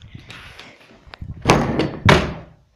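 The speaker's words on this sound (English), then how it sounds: "I ran into the door." Someone bumps into a door, producing two loud, heavy thuds with a rattling slam quality, preceded by softer knocking and handling noises nearby.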